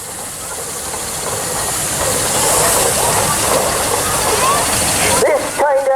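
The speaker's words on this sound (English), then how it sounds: "It's called Thunderbird because it sounds like thunder when it's going." An experimental single-cylinder Thunderbird engine running at the Hellingly Festival of Transport showground, giving a loud, continuous hissing, chuffing roar that builds steadily, with someone talking briefly near the end.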